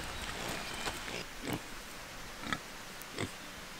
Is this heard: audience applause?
no